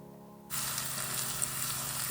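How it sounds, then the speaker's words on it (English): Tempering spices with a pinch of asafoetida hit hot oil on low heat, a sudden steady sizzle that starts after a brief quiet moment and holds evenly, close up and fairly soft, with no talk. "Let them fry on low heat."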